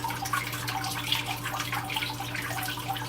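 Water running through a filter system, a steady close trickle and flow with a low constant hum beneath and faint drips, no talk.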